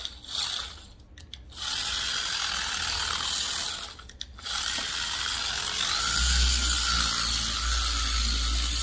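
A machine polisher with a foam pad spreads aluminum polish on a Porsche at low speed, giving a steady whirring drone broken by two short pauses, then a deeper, heavier hum as it presses in.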